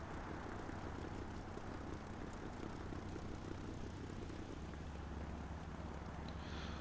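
A propeller Pyörremyrsky fighter plane in War Thunder braking and taxiing on the runway, a low, steady engine drone and rumble that stays constant and moderately distant throughout.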